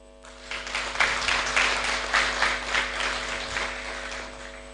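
A round of applause at a South Sudan banking event, a spread of many hands clapping steadily at moderate distance over a constant electrical hum.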